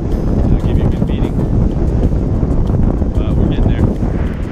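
Strong wind buffets a sailboat on the shallow Pamlico Sound during a hurricane run, a steady loud roar of gusts and water noise with people talking over it.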